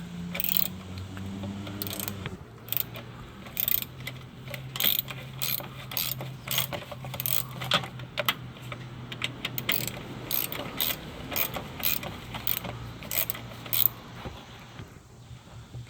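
A ratchet with a 10mm socket and extension loosens a bolt on a 2014-2016 Kia Soul, giving a rapid run of close metallic clicks in repeated bursts.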